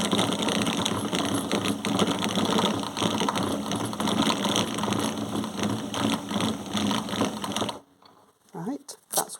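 A lace bobbin winder spins thread onto lace bobbins, giving a steady close mechanical whir that runs continuously for several seconds before stopping abruptly near the end, followed by a few faint handling sounds.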